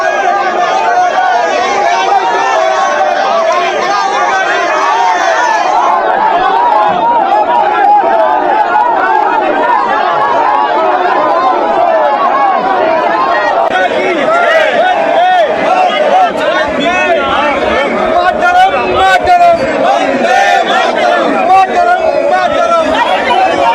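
Dense crowd of Congress and BJP MPs protesting face to face outdoors in Delhi, a loud continuous babble of many overlapping voices and shouting that never lets up.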